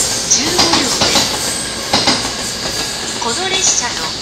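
An 11-car E217 series Yokosuka Line local train arrives at platform 5 of JR Ofuna station, running late after an abnormal noise check. Wheels clatter and squeal up close over a steady rumble, with voices faintly in the background.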